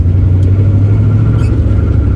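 A 1965 Ford Mustang's freshly broken-in engine rumbles low and steady throughout, close by, with a constant deep drone and no voices, as the unfinished car drives off the road over grass.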